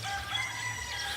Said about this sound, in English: sound of birds chirping is heard, signaling the break of a dawn